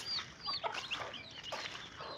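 Chickens and roosters clucking at a small breeding farm, several birds giving repeated short, fairly close clucks and calls in an irregular overlapping chatter.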